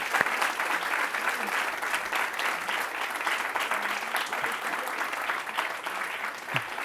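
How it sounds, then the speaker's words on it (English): Audience at a university homecoming weekend panel applauds the panelists, a dense, steady roar of many clapping hands sustained throughout at even loudness, with no talk over it. "let's give our panelists another round of applause."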